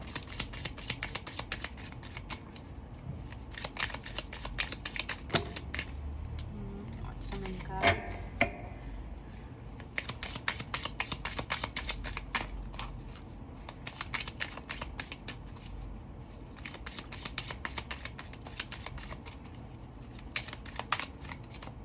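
A tarot deck being shuffled, crisp rapid card riffles and slides continuing through the stretch at close range, with a brief rustle and soft talk-like murmur underneath.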